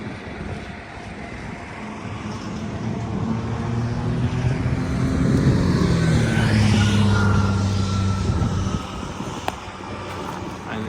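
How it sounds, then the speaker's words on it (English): A slow light sport aircraft with large propellers flies past at the Oshkosh airshow, its steady droning engine swelling as it nears and then easing off, with a brief tonal shift mid-pass. "This should be a very slow flying aircraft."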